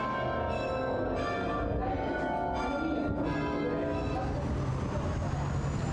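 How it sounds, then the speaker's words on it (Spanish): Church bells in Porto ring out in a series of resonant strokes, moderately distant, over a steady wash of street traffic noise. "Al descender justo empezaron a sonar las campanas."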